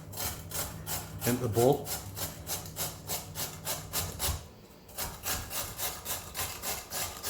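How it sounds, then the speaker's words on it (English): Half a cucumber grated by hand on a grater into a bowl, giving rhythmic rasping strokes about twice a second, close and steady, with a brief pause partway and a short spoken phrase early on. "So I'm just going to grate this first"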